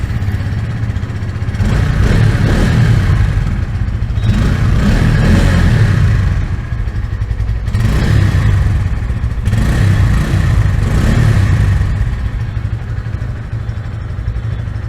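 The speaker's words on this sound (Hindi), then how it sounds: "N150 में भी आपको अंडरबेली एग्जॉस्ट मिलेगा, यहाँ पे आप देख सकते हो।" A Bajaj Pulsar N150 motorcycle with an underbelly exhaust, running close by with a loud, steady engine note and several rhythmic surges of revving over about fifteen seconds, with no talking.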